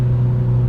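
Mitsubishi Lancer Evolution MR engine in Super Sport mode, a steady low droning hum held at high RPM, loud and close, with no talk over it.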